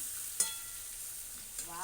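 Bitter gourd frying in a pan: a faint steady sizzle with a sharp clack as a spatula flips the pieces, then another soft scrape and stir near the end.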